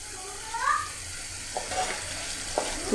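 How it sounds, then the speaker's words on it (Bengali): Fried eggs dropped into spice masala cooked down in oil in a pan, a moderate continuous sizzle with a few soft scraping and stirring sounds and brief tonal squeaks. "মশলাগুলো যখন কষিয়ে নেওয়া হয়ে যাবে, এরকম দেখা যাচ্ছে চারিদিকে গাঢ় ভাব আর তেলগুলো সাইডেও চলে এসেছে, এর মধ্যে আমি ভেজে রাখা ডিমগুলোকে ছেড়ে দিচ্ছি"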